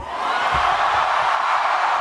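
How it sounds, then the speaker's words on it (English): A loud crowd at a Bernie Sanders rally cheers and whoops in a dense, steady roar, close and sustained throughout. "You are a loud crowd."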